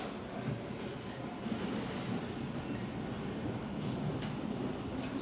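A box travelling along a chassis assembly line conveyor toward the next station in a factory, heard as a steady, continuous rolling rumble with faint rattling throughout, no voices.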